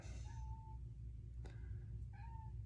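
A house cat gives two distinct meows, one near the start and one near the end, close and fairly clear above a low constant background hum, with no speech.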